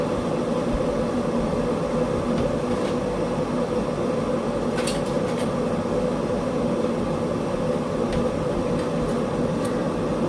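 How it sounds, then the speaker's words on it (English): An electric-style kettle coming up to the boil gives a steady, fairly loud rushing rumble that runs unbroken throughout, with a few faint ticks on top and no voices. "as you can hear, the kettle is getting boiling"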